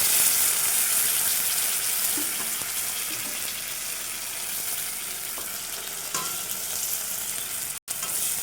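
Ground spice paste of cumin, coriander, mustard and ginger frying in a pan gives a dense, continuous hiss and sizzle, loud and close, with faint scraping stirs and no talking, briefly cut near the end.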